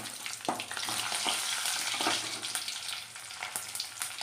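Urad dal, chana dal and dried red chillies frying in hot oil, giving a steady, dense crackling sizzle with a few sharper pops along the way.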